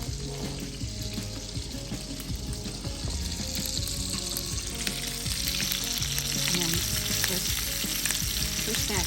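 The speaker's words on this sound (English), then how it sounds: "We have to fry a lot of our potato batter" Potato boxty batter frying in butter in a pan, a steady close sizzle with soft crackles and occasional scraping throughout.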